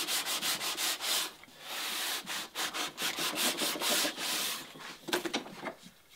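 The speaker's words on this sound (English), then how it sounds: "I'm just gonna take my longboard and just kind of give it a few swipes just to even things out a bit." A longboard sands the wooden interior of a Catalina Wherry rowing boat under construction in quick, repeated rasping strokes, a rhythmic scratchy rubbing with brief pauses between bursts, close and clear.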